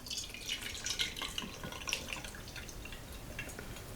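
Bai Mudan white tea rinse poured out, a steady trickle of liquid with light splashes and drips, close and fairly quiet, no voices.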